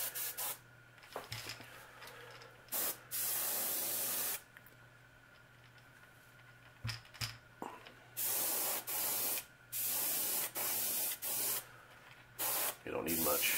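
An airbrush sprays paint in short hissing bursts of a few seconds each, separated by pauses, with an exhaust fan humming steadily underneath in a quiet workshop.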